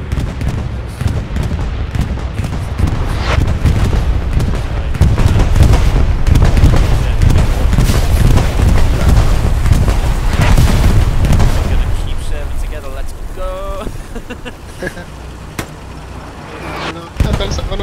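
Anti-tank rockets explode in the World War II game Hell Let Loose as dense, rumbling booms and blasts pile up over steady battle noise, loud and continuous, easing off near the end.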